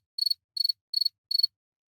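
A cricket chirps four times in an even, steady rhythm, each chirp a quick pulsed trill, close and clear against total silence.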